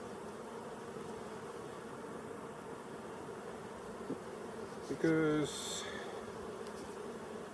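Honey bees hum steadily from an open hive during a beekeeper's frame inspection in Colorado, a continuous close buzz with a brief word spoken and a short clatter near the end.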